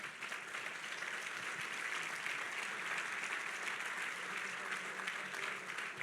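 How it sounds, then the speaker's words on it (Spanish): A church congregation applauds during a sermon, a steady wash of many hands clapping together that holds evenly throughout, fairly soft and distant. "Dele un aplauso"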